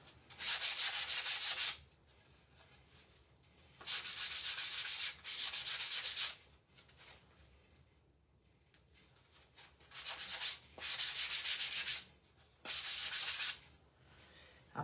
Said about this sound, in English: Sanding sponge.